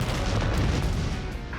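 A loud, close, low rumbling blast fills the entire moment with sustained booming roar, no voices over it.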